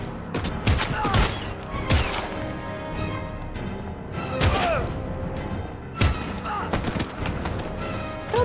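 Gunfire in the Heavy Rain video game: a rapid series of loud, close shots and impacts in irregular bursts over about eight seconds, mixed with crashing debris and a dense game soundtrack.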